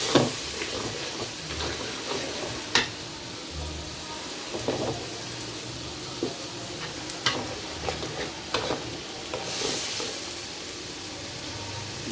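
Meat fries in a pan and is stirred steadily. A continuous close sizzle runs throughout, with the scrape and clack of a utensil against the pan breaking in at irregular moments.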